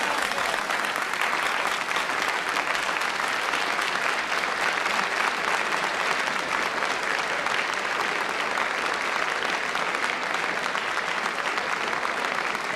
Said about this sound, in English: Applause for Mrs. Barbara Castle from this apparently overwhelmingly pro-common market Oxford Union audience